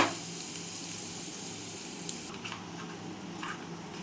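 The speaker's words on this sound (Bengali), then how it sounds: "তেল গরম হয়ে গেছে এরপর এখানে আমি দিয়ে দেবো ফড়ঙ্গে গোটা মশলা এখানে আমি দিয়ে দিচ্ছি গোটা জিরে" Whole cumin and other whole spices dropped into hot oil, crackling and sizzling as a steady bright hiss that thins slightly after a couple of seconds, with no talk over it.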